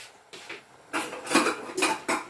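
Pinakbet being flipped in a cooking pot, giving a series of clattering metal-on-pot scrapes and knocks, faint at first then louder with four or five distinct bursts, no talking.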